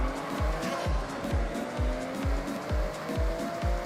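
Schuppan 962CR race car in Forza Horizon, its engine droning loud and steady with rapid repeated gear-shift pulses and a tire squeal running through the whole stretch.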